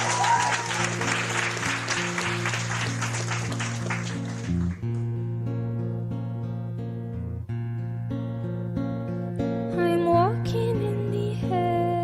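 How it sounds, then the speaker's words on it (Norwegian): A studio audience claps for a live performance: thick applause for the first few seconds over a sustained instrumental intro, then it drops away and the music carries on alone. "så er det bare gi en varm applaus"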